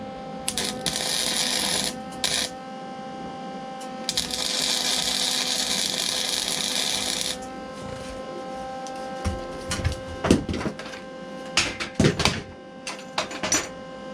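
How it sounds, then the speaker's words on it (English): Tie rod ends being welded together on top of rubber bushings for a Datsun Z rack and pinion fabrication, a steady buzzing arc in long bursts with pauses, followed by scattered knocks and clanks. "So I'm just welding the tails together."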